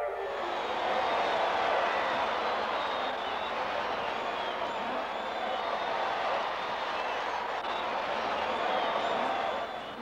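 A large cartoon concert crowd fills the air with a steady, dense roar of murmuring and cheering voices, with scattered clapping running throughout at an even level.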